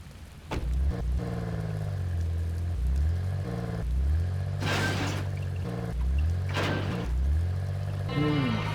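A car engine driving in the video game Urban Chaos hums steadily with rising and falling pitch, like shifting through revs. Brief bursts of noise break in, and no one talks.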